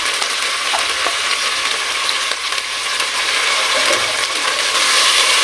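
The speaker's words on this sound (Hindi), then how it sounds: "वन मिनट के लिए इसके साथ फ्राई कर देंगे" Tomato and four chilies fry in a pan of vegetable rice, a steady, loud, dense sizzle running unbroken throughout with faint occasional stirring clicks and no talking.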